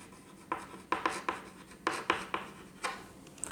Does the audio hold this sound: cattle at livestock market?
no